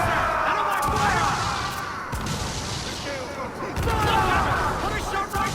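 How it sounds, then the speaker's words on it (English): Gunfire in a video game raid (pirate ship battle), steady dense bursts of shots and booms through the whole stretch, with voices shouting over the din. "Enemy fire!"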